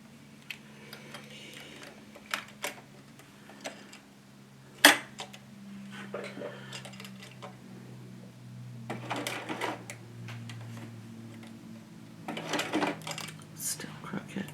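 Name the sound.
sewing machine stitching fabric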